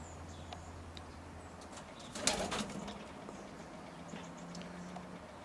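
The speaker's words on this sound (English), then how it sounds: "They're beautiful little birds." Young roller pigeons coo softly in a loft while a brief burst of wing flapping rises in the middle, with a low hum under quiet ambience.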